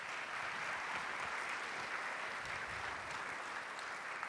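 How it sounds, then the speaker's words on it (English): A steady, even wash of audience applause for volunteers, heard from a distance and fairly faint, at the opening introduction of a 2012 Nutcracker performance. "please, a big warm round of applause for our great volunteers"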